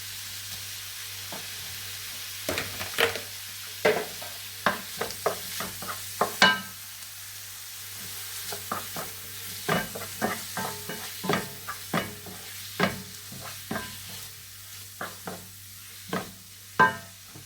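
Shrimp frying in a pan over high heat crackle in a constant low sizzle, broken by frequent sharp scraping and stirring knocks from a utensil against the pan, close and fairly loud.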